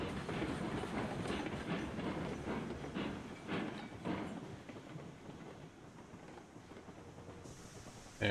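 Freight train in the video game Railroads Online rolling to a stop, a steady rumbling roar with clattering wheels and hiss that gradually eases, loud and continuous.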